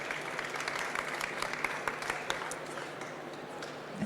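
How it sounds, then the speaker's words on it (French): Applause for award winners at the Natexpo 2024 trophy ceremony, fairly faint and distant, an even spread of clapping from a modest audience that carries on steadily without cheering. "On vous applaudit."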